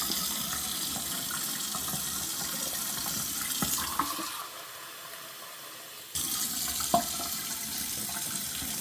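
Warm tap water runs steadily from a faucet into a sink while puppy tube-feeding formula is being mixed. The flow briefly quiets for a couple of seconds, then resumes, with no talking.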